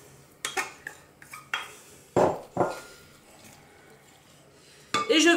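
Cooked pasta being stirred with ham in a large salad bowl for a pasta and ham gratin, giving a handful of scattered clinks and scrapes of utensils against the bowl, with a louder clatter near the end.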